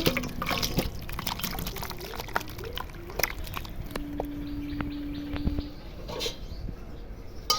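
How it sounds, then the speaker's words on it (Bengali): Spicy meat curry being poured out, heard as soft liquid splashes and drips close by, with birds chirping faintly in the background. "দেখুন মাংসের ঝাল ঢেলে নিচ্ছি"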